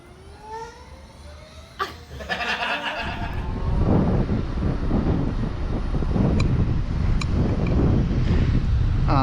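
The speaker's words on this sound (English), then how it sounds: "I'm giving a ride on a the Harley electric bike. The Livewire." A Harley-Davidson LiveWire electric motorcycle rides off, with heavy wind rush building over the quiet drivetrain as speed rises and a faint motor whine beneath the steady roar of air.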